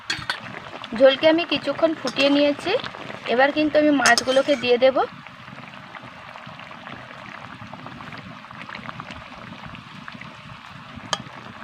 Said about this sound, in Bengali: এবার আমি দিয়ে দিচ্ছি জল জলটা আমি পরিমাণ মতন দিয়ে দিচ্ছি